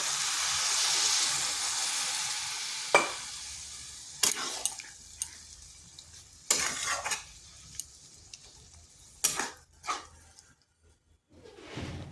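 Frying cabbage and soybean sizzles loudly at first, then water goes into the pan and a spoon stirs with sharp scrapes and clatters against the metal between quieter moments.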